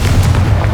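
A Confringo spell explodes in the Hogwarts Legacy video game as a loud, dense, booming blast that fills the whole short moment with heavy low rumble.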